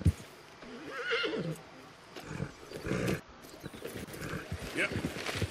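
A video game horse whinnies after a fall, with a shrill neigh near the start and shorter snorting calls following, set over game ambience and hoof clatter.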